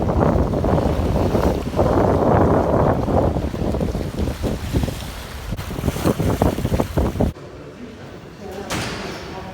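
Wind buffets the microphone over sea waves at a seaside picnic, a loud, rough, continuous roar that eases toward the end, with voices talking underneath.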